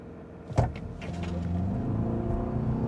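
A 2026 Toyota RAV4 Woodland plug-in hybrid launches hard from a standstill: a brief thump, then a steadily rising electric-motor and engine drone that builds and holds, heard from inside the cabin without speech.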